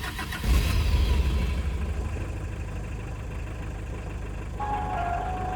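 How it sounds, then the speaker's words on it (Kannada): Hindustan Contessa diesel engine idling with a steady low rumble close by, a louder burst near the start as it revs, then a settled throb with a faint higher whine toward the end. "ಸೊ ನೋಡಿದ್ರಲ್ಲ, ಪ್ಯೂರ್ ಡೀಸೆಲ್ ರಂಬಲ್ಲು."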